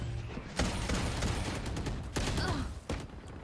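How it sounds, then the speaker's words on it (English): Gunshots fired into the air in the video game Valorant come as about three sharp, loud bursts spaced over a few seconds, with busy game noise between them. "makes a couple of shots into the air to let the opposing team know where he's at"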